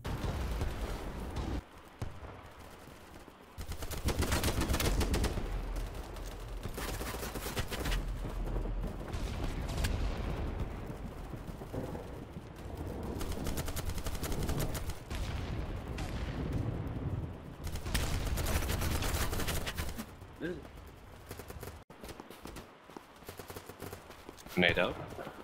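Weapon fire in the large-scale shooter BattleBit Remastered, heavy bursts of gunshots and booming blasts that come and go over a long stretch, with a voice talking over parts of it.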